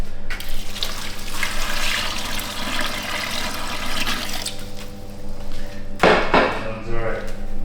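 Plain water pouring into a burger mixture at a food truck, a steady splashing stream running several seconds beside a voice, then a brief louder splash near the end.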